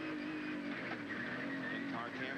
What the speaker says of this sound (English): whine you hear is actually just the transmission. The gears are what they call straight cut gears, and really make some howling sounds from inside the car